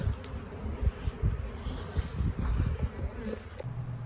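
A swarm of honey bees hums in a steady, dense drone at close range, with many overlapping buzzes that rise and fall slightly around the listener. There are no voices over the buzzing.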